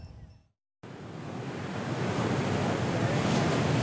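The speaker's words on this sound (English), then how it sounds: "the surf isn't quite as outrageous as it was yesterday, but it is still big" Big ocean surf at Newport Beach roars as a continuous wash of breaking waves, building louder after a brief gap, with wind buffeting the microphone.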